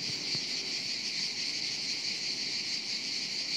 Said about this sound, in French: Et on entend très bien les grillons et les cigales.